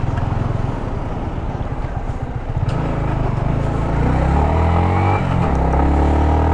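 A motorcycle riding through a long traffic jam on the road from Siliguri to Gangtok in Sikkim, its engine humming and rising steadily as it threads between stationary vehicles, with surrounding traffic rumble close by.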